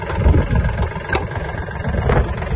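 A Kubota L1-185 mini tractor engine runs steadily while driving, a close, rough mid-pitched diesel chug with slight rises in revs and no voices.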